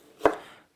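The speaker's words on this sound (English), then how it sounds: "So I'm chopping up 2 big peppers and a smaller one." A single knife chop through a pepper on a cutting board, one sharp, close thump with a short fading tail in a quiet kitchen.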